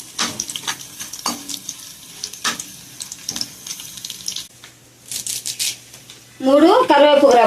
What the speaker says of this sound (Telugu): తాలింపులో చిన్నులపాయ వేసుకుందామండి